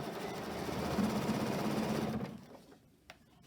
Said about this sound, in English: So I'll just go back, make sure I catch those stitches in.